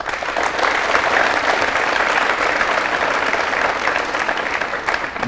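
Studio audience on a Bhojpuri quiz show applauding a departing contestant, a loud, even burst of many hands clapping that holds steady from start to finish.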